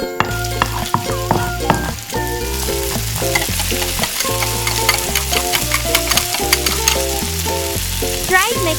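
Chopped onion sizzles loudly in hot cooking oil in a small pan, a steady close frying hiss throughout with light stirring and a musical tone playing along.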